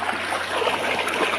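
The Casttilejos River in Zambales flows past in a steady, close, full rushing and babbling wash of water with no pauses.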